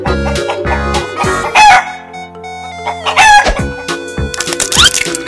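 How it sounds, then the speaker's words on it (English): A rooster crows loudly and close up twice, each long cock-a-doodle-doo rising and falling, with clucking chicken sounds and musical tones in between. "Chicken."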